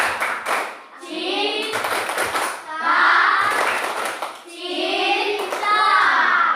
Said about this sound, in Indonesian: Memang kita tahu ini tepuk cinta